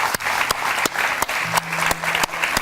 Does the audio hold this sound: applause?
yes